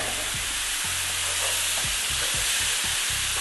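Ground meat sizzling loudly in a hot pan with garlic for Sloppy Joes, a constant close frying hiss broken by soft scraping and stirring knocks.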